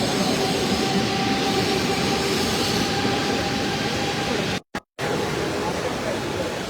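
A local commuter train rumbles steadily past at close range through a station, a loud continuous roar with a brief cutout near the end.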